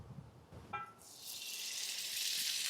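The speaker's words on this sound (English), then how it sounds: "We're going to let this cast iron pan get nice and hot, and then we're going to add our smoked tallow to cook these steaks in." Smoked beef tallow dropped into a hot cast iron pan on an outdoor stove, a brief quiet knock followed by a hissing sizzle that swells and holds steady, close and moderately loud.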